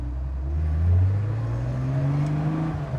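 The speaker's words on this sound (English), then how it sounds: "You can hear the air-cooled engine in the back," A 1979 Porsche 911 SC's rear air-cooled engine runs steadily with a low, throaty hum that rises in pitch as it revs up, with no talking over it.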